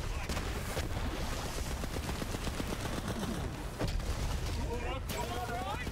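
The Polybius gun firing in Borderlands 3, rapid continuous bursts of gunfire with explosive impacts packed densely, loud and unbroken across the whole stretch.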